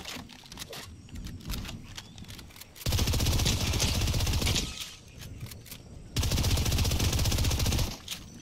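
Rapid automatic gunfire from a gold SMG in Fortnite, loud bursts in two long sustained volleys separated by quieter gaps with scattered distant shots.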